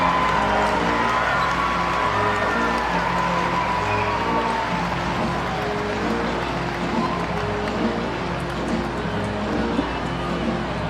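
A baseball stadium crowd at a Savannah Bananas vs Party Animals game in Savannah, Georgia keeps up a steady roar of cheering for the full stretch, with a dense, continuous wash of noise and no clear breaks.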